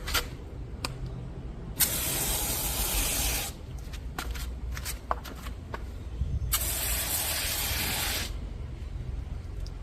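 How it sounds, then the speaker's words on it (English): Alkaline foam mixture sprayed from a foaming pump sprayer during a car wash: two long, loud hissing spray bursts with short spurts between them, alone and close up. "here is my alkaline mixture in a foaming pump sprayer"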